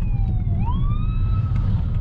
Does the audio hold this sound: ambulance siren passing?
yes